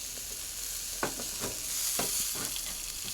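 Steaks sizzle steadily on a cheap Walmart grill outdoors in rain and darkness, a constant hiss with a few sharp spatters and pops as they cook, no talking.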